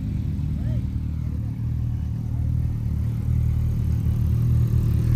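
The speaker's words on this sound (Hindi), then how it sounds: "और साउंड सुनो भाई, भाई ये S1000 RR है भाई" A BMW S1000 RR superbike engine gives a low, continuous rumble close by, swelling slightly toward the end, while people talk over it.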